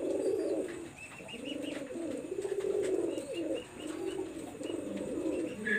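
A single male Prince Kamar pigeon coos close by in repeated rolling phrases over several seconds, with faint chirps in the background.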